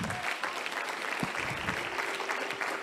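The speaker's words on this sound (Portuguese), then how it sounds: "Pode aplaudir Ele sim." A church congregation applauds during a sermon, a continuous, moderately distant roll of clapping with a faint murmur of voices.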